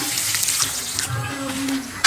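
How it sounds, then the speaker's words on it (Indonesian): Water pours steadily onto the soil of a plant as it is watered to dampen it, a continuous splashing gush that runs close and fairly loud throughout. "Yang pertama, siram dulu tanahnya agar lembab."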